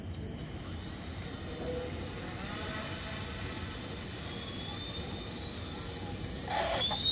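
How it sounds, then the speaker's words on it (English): A Canadair CL-415 water bomber's loud, steady engine roar with a high whine on top, continuous for several seconds and easing slightly toward the end. "This plane is coming here, there is water."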